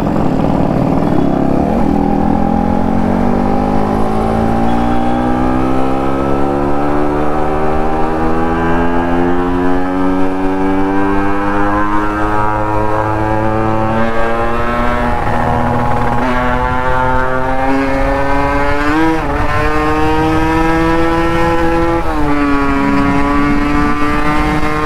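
Vehicle engine beating steadily while riding along a road in rainy weather, a loud continuous drone whose pitch climbs gradually as it accelerates, with no talk.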